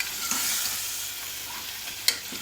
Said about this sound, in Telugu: ఇప్పుడు మనం వెజిటేబుల్స్ వేసేసుకుందాము